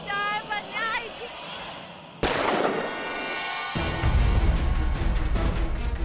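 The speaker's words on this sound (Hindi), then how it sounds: "गोली चलने की आवाज" Gunshot heard in a tense drama scene, a single sharp bang that cuts in abruptly over quieter background sound and then gives way to a louder ambient rumble, with people speaking nearby.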